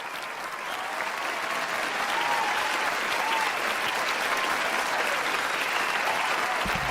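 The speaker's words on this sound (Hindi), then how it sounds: "पुरजोर तालियों में इस्तकबाल करें।" Sustained, dense applause from a large audience at a mushaira poetry gathering, steady and loud throughout with no talk over it.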